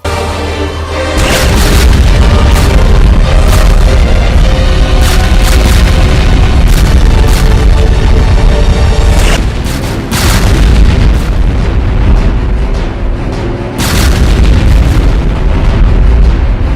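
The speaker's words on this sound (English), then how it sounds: "volleys of BFG 10K shots" Cyberdemon in a Doom mod unleashing volleys of BFG 10K shots, a relentless barrage of loud, booming blasts and bursts that pound almost continuously, briefly dropping out before erupting again.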